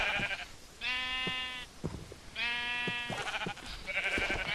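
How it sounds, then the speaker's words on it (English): Sheep in a video game bleat in two long wavering calls, clear and close, with a third bleat beginning at the end, over a quiet background. "Sorry, sheep, you're next."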